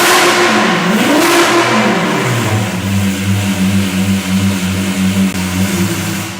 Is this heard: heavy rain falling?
no